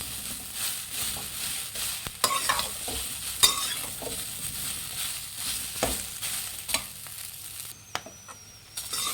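Masala for okra (bhindi) sambar being stirred and fried in a pan, a steady sizzle under repeated scraping strokes of a spoon, close and fairly loud, with no talking.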